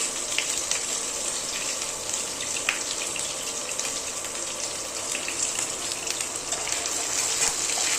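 Oil spatters and hisses in a pan while paneer bhurji fries, a steady close sizzling wash with small pops scattered throughout and no talking.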